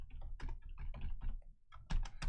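Rapid, irregular keystrokes on a computer keyboard, close and fairly loud, clustered in bursts with a short lull before a final flurry of clacks; no voices.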